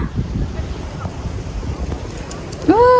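Steady wind buffets the microphone by the Koshi barrage at Chatara bridge, a broad continuous rush across the whole stretch, with a brief voiced sound rising near the end.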